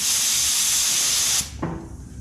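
3M Performance paint spray gun spraying a loud, steady hiss for about a second and a half before cutting off abruptly, leaving faint room noise and a small clunk.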